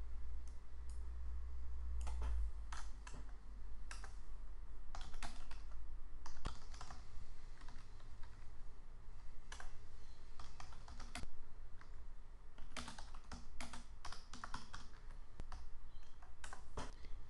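Java code being typed on a computer keyboard in an Eclipse editor: steady, close clicking keystrokes in irregular runs over a constant low background hum, with no speech.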